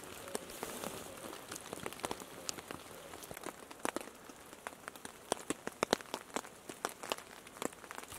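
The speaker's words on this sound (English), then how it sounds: "So the rain has calmed down for right now" Light rain patters steadily on the fabric of a tent during a wilderness camp after a storm, with scattered sharper drops striking close by over a soft hiss. It is quiet and no one speaks.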